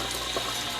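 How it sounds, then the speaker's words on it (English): Water poured into a cooking pot over heat while preparing a homemade dog food mix, a steady broadband splashing rush that stays loud and even throughout, with no talking. "now we're just gonna add some more water so that our mix is actually more liquidy"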